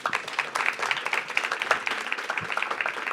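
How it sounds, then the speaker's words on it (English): An audience at a fashion business event gives a brief round of applause, with dense, irregular clapping that stays moderately loud and has no talk over it. "Let's give them a round of applause."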